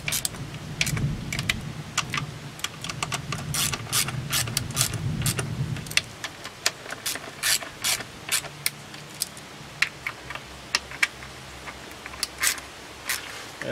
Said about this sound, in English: That's why we're holding the ratchet like this.